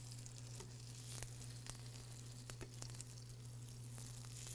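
French toast sizzles steadily in a frying pan, a quiet continuous crackle with scattered small pops over a low steady hum.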